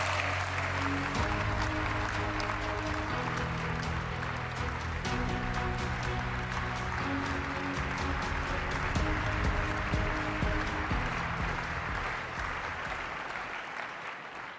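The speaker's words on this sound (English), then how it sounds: "let's welcome with a big round of applause" Loud, sustained applause from a large audience welcoming Roberta Metsola at the European People's Party congress in Valencia, steady dense clapping throughout with music tones underneath, fading slightly at the end.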